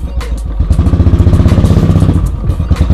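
A Royal Enfield Bullet motorcycle engine with a rear brake in poor condition thumps in a steady, loud single-cylinder beat close by, rising briefly as the throttle is blipped, with no talk over it.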